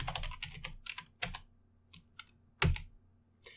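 Close, quiet keystrokes on a computer keyboard: a quick burst of typing, then scattered single taps with pauses between.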